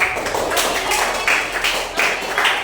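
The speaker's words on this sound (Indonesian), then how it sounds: "Tepuk tangan semuanya." Several people clap together in a short burst of applause, steady and fairly loud, close at hand.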